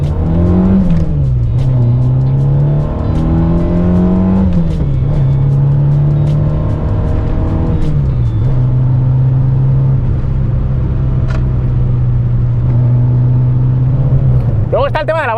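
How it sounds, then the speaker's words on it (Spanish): Citroën AX GT four-cylinder engine with a fairly open exhaust, loud and close, droning steadily with a few revs rising and falling, under continuous talk. "tienes un motor de 4 cilindros funcionando con un escape más o menos abierto"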